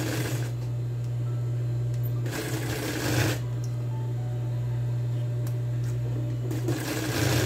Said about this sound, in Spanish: voy a pasar overlock para luego pespuntear